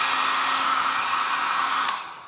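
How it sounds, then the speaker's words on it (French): A hair dryer blows hot air steadily onto a crocheted pompom, a close, continuous whooshing hiss that carries on without pause and softens slightly at the end. "vous prenez votre sèche-cheveux, air chaud"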